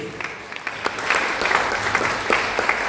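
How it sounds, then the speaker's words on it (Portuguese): Loud, steady applause fills a church congregation, dense overlapping claps sustained throughout with a few sharper bursts, a large crowd close by with no speech over it. "Palmas bem forte para Jesus"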